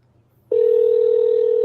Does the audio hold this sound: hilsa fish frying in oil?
no